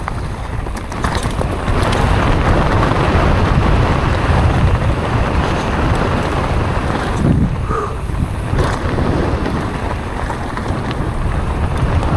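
Gusty wind roars continuously across the microphone on a mountain bike trail at a bike park, loud and unbroken, with brief rustling disturbances partway through and no speech.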